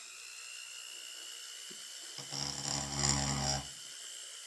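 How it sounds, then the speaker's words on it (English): A Foredom rotary tool grinds a piston with a burr, a brief high whirring buzz that swells for about a second and a half over a quiet background hum. "you can do this with a Dremel, or in my case, a Fordham"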